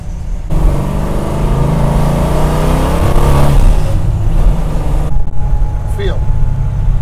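Carbureted custom 1968 Dodge Charger engine heard from inside while cruising, a steady low rumble with a brief rising rev, running under people talking throughout.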